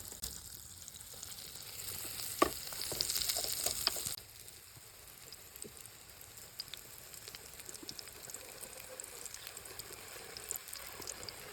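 Eggplant and egg frying in a pan, a steady close sizzle with crackles that grows louder for a few seconds, then settles into a softer, even hiss.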